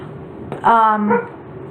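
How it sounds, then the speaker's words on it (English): Dogs bark outside, heard as a single muffled bark and a shorter follow-up at moderate distance over a steady indoor background hum. "I apologize if you can hear the dogs. I put them outside."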